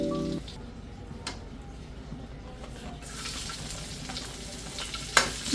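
Garlic, onion, chili and tomato sautéing in a pan for misua soup, a steady sizzle that rises sharply after a few seconds as fresh ingredients hit the hot oil, with stirring and a brief clatter near the end.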